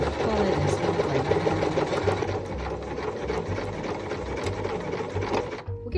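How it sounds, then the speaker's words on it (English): Sewing machine running steadily along a curved seam with a 15mm seam allowance while sewing a flat fell seam, a continuous close mechanical whir with a rhythmic needle chatter that stops abruptly near the end. "we are going to just sew along this curve with a 15mm seam allowance"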